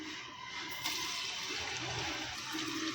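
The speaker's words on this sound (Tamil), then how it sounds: "எண்ணெய் நல்லா காஞ்சிருச்சு நம்ம கட் பண்ணி வச்சிருக்க வெங்காயத்தை போட்டுக்கலாம்" Chopped onions dropped into hot oil in a pressure cooker for mutton biryani, giving a loud, steady broadband sizzle that holds evenly for the whole few seconds with no talking.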